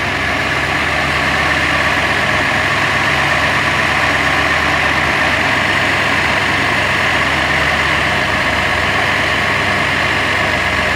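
A car engine with SU carburettors idles at a steady, even pace after tuning, a loud continuous hum with no talking.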